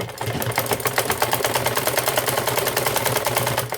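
A sewing machine stitching fabric for a gown, running close and loud with a fast, even, rapid-fire mechanical rhythm and a steady low motor hum, with no voices.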